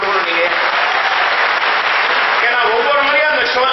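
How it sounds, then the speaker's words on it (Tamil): An audience at a celebration for the film Karnan's 150-day run breaks into sustained, dense applause, a loud and even clapping that fills the hall with no pauses. "அவருக்கும் ஒரு மிகப்பெரிய கைத்தட்டல் கொடுக்கணும் நீங்க."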